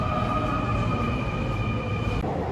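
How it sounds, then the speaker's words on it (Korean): Korean subway train heard from inside or on the platform, a steady loud low rumble with sustained tonal whine running throughout, no talk. "여기가 바로 한국의"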